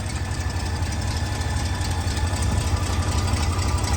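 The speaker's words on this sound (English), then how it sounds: "Nice 455 V8 sounds good." A 1968 Oldsmobile Delta 88's Rocket 455 V8 engine idles close by with a deep, throbbing rumble and a slightly lumpy, steady pulse.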